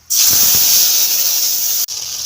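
Ground spice paste hits hot oil with tempering for a raw banana kofta curry, setting off a sudden loud hiss that holds steadily, dips briefly near the end, then resumes.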